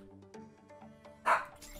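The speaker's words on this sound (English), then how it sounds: "My dog is barking." A dog barks once, a short, fairly loud bark standing out from a quiet background of faint tonal game sounds and soft noises.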